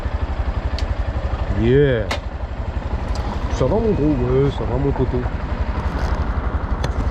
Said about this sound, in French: I'm gonna park my monkey bike